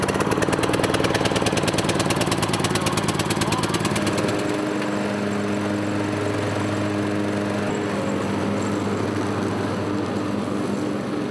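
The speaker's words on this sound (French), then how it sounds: "chauffer le moteur" A farm engine started and left to warm up runs close and loud, beginning with a rapid rattling chug that settles into a steadier droning idle with a low hum.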